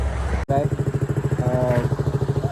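An RR motorcycle engine idles at the start of a group ride, close and loud, with a rapid, even throbbing pulse after a brief dropout.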